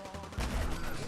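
Gunfire erupts right after an order to open fire, a loud, dense burst of rapid shots and booms that swells and continues as a sustained volley.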